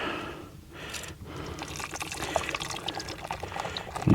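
Twelve ounces of beer poured into a pot for boiling bratwurst at a solo campsite, a continuous close splashing gurgle lasting several seconds with no talk.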